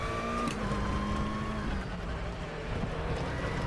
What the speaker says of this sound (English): We brake very hard. Down to 2nd gear, again being very careful because we hit that brake bias to the front.